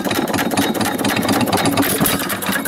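A 1925 Baker Monitor 1 1/4 hp engine with a geared pump drive runs steadily after a couple of years unused, chugging loudly and close up with a constant, busy mechanical clatter and no voices.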